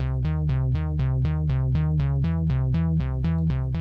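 A Triceratops synthesizer loop repeats steady rhythmic notes, a bright plucky tone pulsing about four times a second over a sustained low bass, continuous and even in level.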